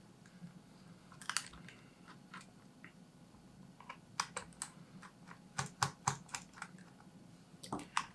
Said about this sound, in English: I'm going to start by taking off these screws in the back